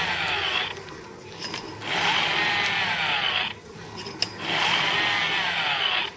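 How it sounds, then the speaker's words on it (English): Chainsaw attack in the Wii game MadWorld: a loud buzzing whine running in two sustained bursts separated by a brief dip, with no talking. "with the B trigger you have your chainsaw, and a simple horizontal or vertical slice will attack with it"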